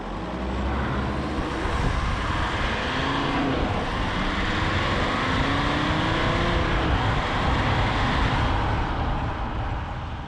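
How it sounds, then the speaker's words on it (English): An Alfa Romeo 159 five-cylinder diesel engine growls steadily at idle and low revs, a deep, continuous rumble heard up close with no talking. "It's got that 5-cylinder growl to it"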